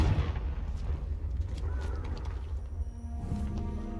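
A Confringo fire-blast spell in Hogwarts Legacy, bursting as a dense, rumbling low explosion that fills the moment and tails off with crackling residue and game ambience.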